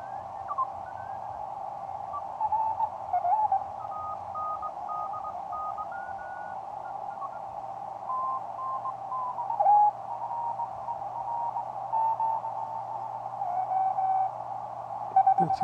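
A homebuilt shortwave receiver with a VXO tuned across the 20 meter band gives a steady hiss with faint wavering tones and weak signals drifting through, continuous and moderately quiet with nobody talking.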